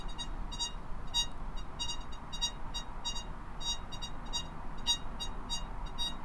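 A 30 kHz analogue Deeptech Gold Hound metal detector emits rapid high-pitched electronic beeps in repeated bursts over a buried target, over a soft background hiss, with no one speaking.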